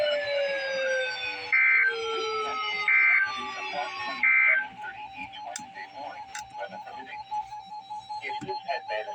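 NOAA Weather Radio emergency alert test: loud electronic data bursts and a steady warning alarm tone, followed by a broadcast voice talking over faint background noise.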